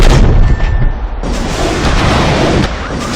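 Mortar fire and explosions in a giant-robot combat video game, a dense continuous barrage of booming blasts and gunfire rumbling loudly throughout with no talk.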